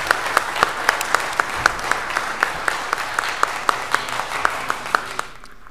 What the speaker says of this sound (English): Big round of applause for these future leaders of Los Angeles.